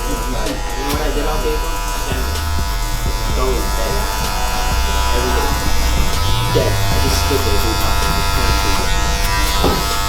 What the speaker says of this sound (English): I'm pretty much done with the clipper part of this haircut